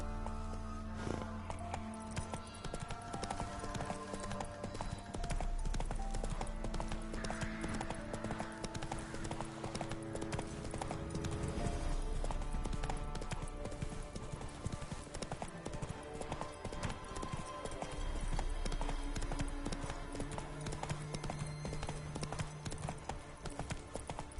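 Roach, Geralt's horse in The Witcher 3, gallops with a steady, loud run of clip-clopping hooves over the whole stretch, set against game music and ambience, with an occasional whinny.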